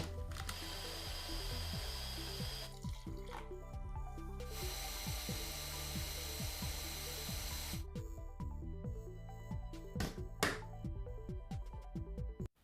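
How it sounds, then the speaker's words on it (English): A blender purees cashews, fresh parsley and a pinch of salt into a soup sauce. Its loud, continuous motor whir runs for about twelve seconds, and the pitch shifts as the mixture churns, with no talking. "I'm going to add the cashews and a pinch of salt and blend that all together"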